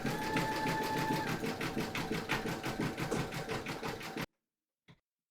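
An embroidery machine stitches a satin stitch around appliqué wings on a Halloween kitty design, a fast rhythmic mechanical whirr that pulses steadily and close, then stops abruptly and is followed by a single faint click.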